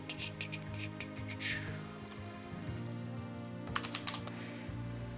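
Rapid clicks of fingers typing on a computer keyboard, with short bursts of keystrokes separated by brief pauses, close up against a low steady hum.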